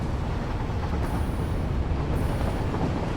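Steady rumbling train noise inside a station in the game Satisfactory, a continuous rolling drone with faint high hiss, no talking.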